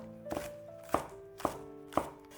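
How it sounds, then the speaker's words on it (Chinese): Knife chopping green onions into small scallion pieces on a board, four crisp, evenly spaced chops close by against a quiet background hum. "给它切成葱花"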